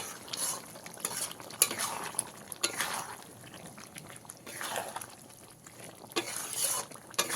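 Spoon stirring jackfruit and prawn curry with ghee and garam masala in a metal pot, a series of close scraping, clinking strokes with soft wet sizzle, rising and falling in uneven rhythm.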